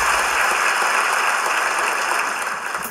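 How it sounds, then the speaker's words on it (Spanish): A theatre audience at a live comedy show applauds steadily. Many hands clap together in a dense, continuous wash that eases slightly toward the end. "Un fuerte aplauso para Ale Candioti."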